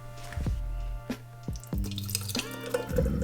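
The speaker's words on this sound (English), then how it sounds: "I'm gonna pour the sea moss into the jar where I can store it in the fridge" Thick homemade sea moss gel is poured into a storage jar, giving close, wet glugs and drips in uneven bursts, each one short and resonant with a slight hollow ring from the container.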